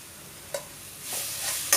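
A crushed paste of onion, garlic and cumin hits a hot pan with a rising sizzle, accompanied by a couple of quick scraping stirs and a brief clink of a utensil.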